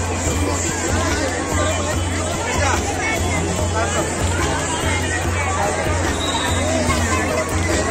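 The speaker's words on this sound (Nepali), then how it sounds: "धेरै भिडभाड भइरहेको अवस्था छ" Dense crowd babble from devotees packed at the Baglung Kalika temple during the Chaite Dashain fair, a continuous loud hubbub of many overlapping voices with a low steady hum underneath.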